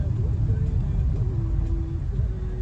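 A car drives along the road toward a railway station near Lazarevskoye, its engine a steady low rumble with constant road noise and no pauses, heard from inside the vehicle.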